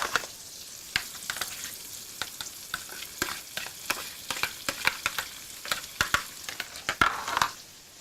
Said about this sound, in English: Cook this until you see your prawn turning white